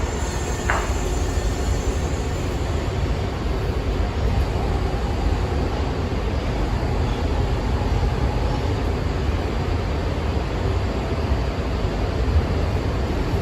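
Los Angeles Metro train runs toward its last stop at Wilshire/Western, a constant loud rumble and hiss of the carriage on the rails with no clear voices.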